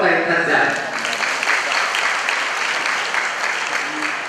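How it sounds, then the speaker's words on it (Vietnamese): A long round of audience applause at a Catholic diocesan culture awards ceremony honoring Jesuit priests, loud sustained clapping with a voice briefly audible over it at the start. "cảm ơn quý vị quý vị dòng Chúa Giêsu linh mục bằng một tràng pháo tay thật dài"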